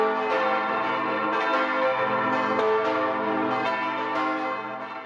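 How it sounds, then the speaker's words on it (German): Church bells of a Bavarian monastery ring a loud, continuous alarm peal, with overlapping strokes sounding close and dense, slightly fading at the end. "empfängt es ein ohrenbetäubendes Sturmgeläut der Kirchenglocken"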